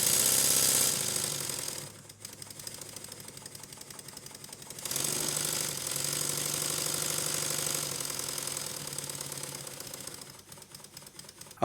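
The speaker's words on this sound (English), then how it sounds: "The engine is running in or breaking in quite nicely" A Stuart 7A model steam engine runs steadily while breaking in, a dense rapid mechanical clatter and hiss that drops briefly in level before returning at full strength, with no voices.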